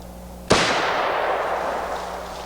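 A single loud, close battle rifle shot firing full metal jacket ammunition, a sharp crack followed by a long echoing decay outdoors.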